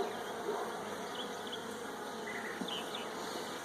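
Honeybees crowding inside a hive and feeding on candy, a dense, continuous buzzing hum held close and steady, with no voices.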